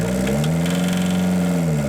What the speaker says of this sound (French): les tours peuvent augmenter ou diminuer et l'on peut parfois entendre le cognement du moteur diesel